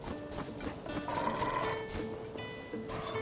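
A horse in Zelda: Tears of the Kingdom, its whinny and hoof clip-clop heard over game background music, moderately loud and continuous through the short stretch.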